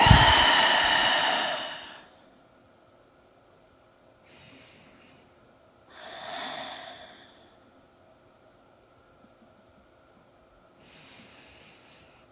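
A person lying on the floor after a fast-paced yoga workout takes slow, deep breaths: a loud exhale first, then three softer breaths spaced several seconds apart, close with quiet pauses between.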